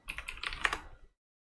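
Rapid typing on a computer keyboard, a quick close burst of light key clicks lasting about a second before falling silent.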